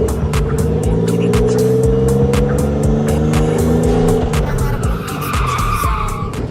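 A car skids through a handbrake turn around a cone in second gear, tires squealing loudly and continuously under engine drone before the slide eases near the end.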